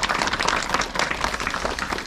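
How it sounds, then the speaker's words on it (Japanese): An audience at a fishing tournament claps steadily, a dense wash of applause from many hands sustained throughout. "拍手お願いします。"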